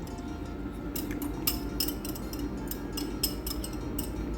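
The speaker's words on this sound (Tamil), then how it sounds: "இப்போ இதை சாதத்தோடு கலந்து விட்டுக்கலாம்." Curd is stirred into cooked rice for temple-style curd rice, giving soft, scattered clicks and taps of a utensil against a vessel over a quiet background, with no talking.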